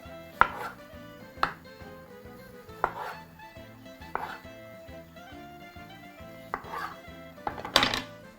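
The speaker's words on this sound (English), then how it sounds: "So once more, slice those into quarters." A knife chops through tomatoes on a board, cutting them into quarters, each stroke a sharp close thud in an uneven rhythm of about eight cuts over steady background music.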